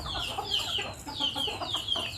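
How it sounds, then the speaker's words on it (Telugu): Country roosters and hens cluck nearby in repeated short bursts, a small lively flock calling back and forth outdoors. "నాటు పుంజు ఇక్కడ ఒకటి, ఇక్కడ ఉన్నాయి."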